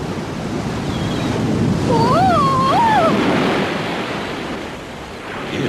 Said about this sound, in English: a wave much bigger than the others came rushing towards Tiggy